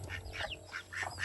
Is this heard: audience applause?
no